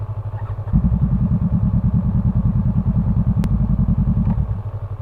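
A Yamaha YZF-R3 motorcycle engine starts and settles into a steady, close idle with a quick, even low thrum, running alone for several seconds before cutting back down.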